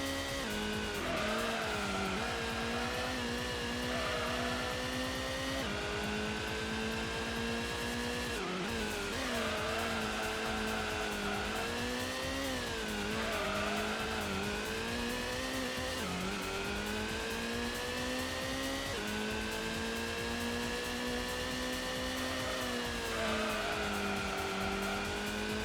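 Race car engine in Gran Turismo on the Grand Valley circuit, a loud, continuous high revving drone that rises and falls through gear changes, with tire squeal under hard cornering and oversteer.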